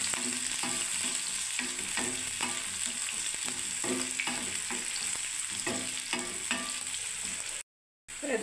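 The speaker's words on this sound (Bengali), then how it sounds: "আগে আমি সেই পেঁয়াজটাকে বন্ধুরা ভেজে নেব" Onions frying in hot oil until golden for beresta, a steady close sizzle broken by regular scraping stirs about once a second, then a brief silence near the end.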